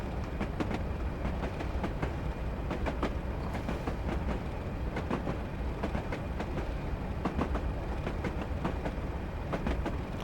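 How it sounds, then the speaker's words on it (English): Train wheels clickety-clack over rail joints in Train Simulator 2021 on the West Highland Line, a steady rumble with repeated rhythmic clicks, moderately loud with no talking. "I can just listen to that clickety-clack for hours."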